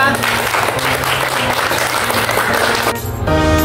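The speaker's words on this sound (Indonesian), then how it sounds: "Oke, tepuk tangan buat kita." Schoolchildren clapping together in a classroom at an Indonesian primary school, a dense steady burst of applause lasting a few seconds with faint voices mixed in.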